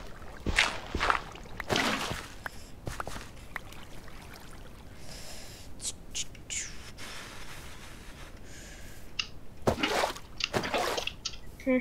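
Splashing and sloshing water in the Minecraft video game, with a few short bursts of splashes near the start and again near the end, separated by a quieter stretch of low background noise.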